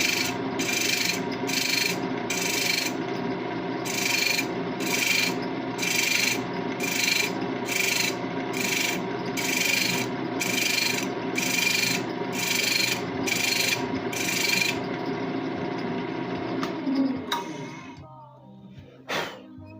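A thread chasing tool cuts threads into wood spinning on a lathe, producing loud rhythmic rasping strokes repeated steadily for most of the clip before stopping near the end.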